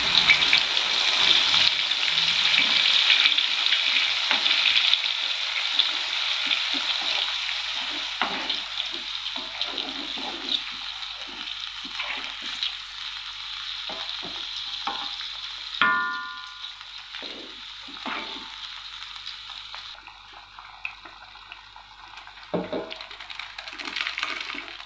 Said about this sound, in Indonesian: tambahkan minyak goreng secukupnya, lalu masukkan bumbu dan cabai yang sudah kita haluskan tadi